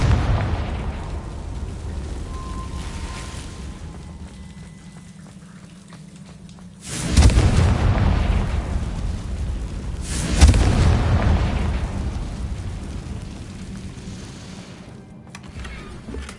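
Confringo fire spell blasts in Hogwarts Legacy, two heavy booming explosions a few seconds apart, each swelling into a broad roaring rumble that slowly fades.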